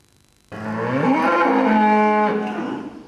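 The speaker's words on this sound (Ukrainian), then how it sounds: "Нині корови на господарстві недоїні." A dairy cow on a farm, left unmilked, lets out one long, loud, close moo that rises and holds for about two and a half seconds, with no talk around it.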